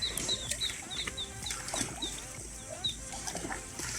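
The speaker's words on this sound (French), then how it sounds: "Oh, tes petits poussins là-bas." Chickens and small chicks at a rural homestay café in Thailand, with soft clucks and repeated high, thin chick peeps scattered through a busy outdoor background, close by and moderately loud.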